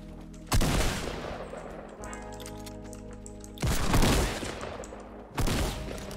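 Gunfire in the Fortnite video game (Season 7): three loud bursts of shots at about half a second, four seconds and five and a half seconds, with quieter game background sound filling the gaps.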